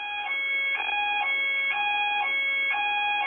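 Building fire alarm system sounding steadily, a loud electronic tone with a repeating rhythmic pulse roughly every half second, continuous throughout, no talking.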